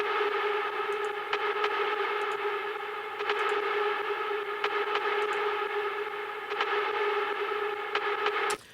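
A hard trance synth lead runs through a Waves Renaissance reverb, producing a loud, bright, sustained buzzing tone with a few short accented stabs that stops sharply at the end.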